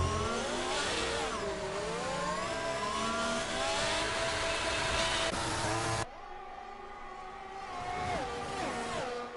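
Several race cars in a racing video game accelerate hard at a race restart on the Belgium circuit, engines rising and shifting through gears in overlapping whines, loud and continuous, then a cut to another car's climbing engine note.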